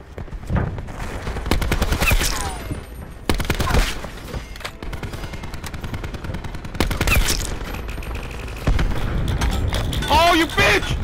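Bursts of automatic gunfire in Call of Duty: Black Ops 4, rapid loud volleys coming in several clusters, with a player talking over the shooting.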